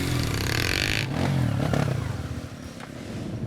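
A motorcycle engine labors and revs up a rocky, muddy trail in South Sulawesi, loud and close, with clattering and scraping from the rough ground under the steady drone.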